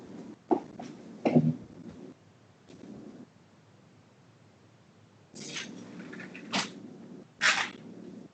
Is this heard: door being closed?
yes